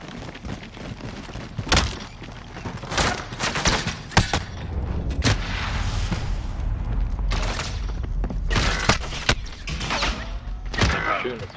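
Gunfire in a Call of Duty match: loud single shots and heavy booms spaced irregularly over a constant rumbling background, with a few closer cracks standing out.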